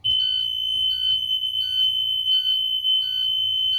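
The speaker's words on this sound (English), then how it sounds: "Alarm sounds upon opening." A vehicle's rear door alarm beeps in a steady, rapid series of short electronic pulses over a continuous high tone, loud and close, with no voices.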